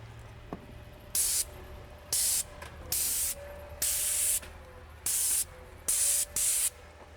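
A paint sprayer coats the recessed panels of a farmhouse exterior in short, loud hissing bursts, about eight of them in an even rhythm, with brief quiet pauses between them.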